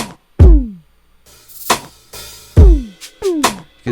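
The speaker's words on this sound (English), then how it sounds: "You gotta throw in this Splice Instrument drum kit." Live drum kit from Splice Instrument playing an R&B beat pattern: deep booming kicks alternate with sharp, bright snare and cymbal hits in a steady groove, loud and close, with no talking.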